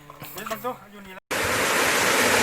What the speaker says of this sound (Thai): ใกล้จะถึงน้ำตกแล้ว